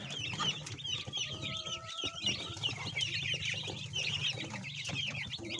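Broiler chickens in a brooder on a farm, a flock of young birds clucking and peeping in busy overlapping calls close by, with faint wing flutters and no talk.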